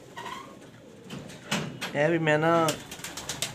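Pet pigeons, a female among them, give a loud, close rolling coo after a few brief sounds, with someone speaking briefly at the start.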